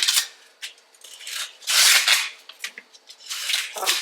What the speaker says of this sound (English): I'm just peeling off the rough outside husks.